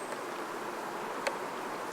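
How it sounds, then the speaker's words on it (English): Honey bees working in an open hive boxed for honey produce a dense, even buzzing hum that is close and steady throughout, with a faint tick partway through and no talking. "there are the bees, burrowing away, working away."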